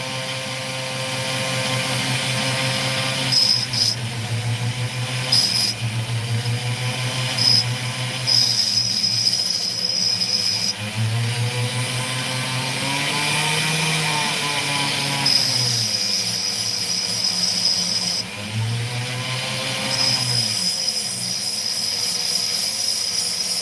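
A loud grinding drill whine that rises and falls in pitch as it bites into hard opal, running continuously with no voices.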